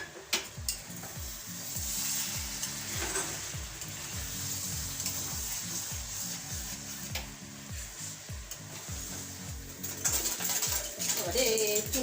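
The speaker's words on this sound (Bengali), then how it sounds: "চুনো চুনো মাছ ভাজা হচ্ছে" Small fish fry in a pan with a steady close sizzle, crackling and repeated spatula scraping at a regular rhythm, growing louder toward the end, with faint talk in the background.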